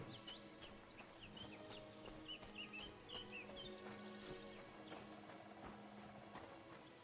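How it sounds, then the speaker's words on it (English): Birds chirp and call in a forest in the video game Kingdom Come: Deliverance II, with faint woodpecker tapping in the background and soft hoof-like steps under a low ambient bed. "Just listen to the birds, and there's like woodpeckers in the background"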